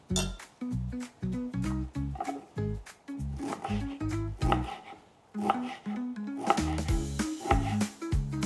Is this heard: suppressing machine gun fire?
no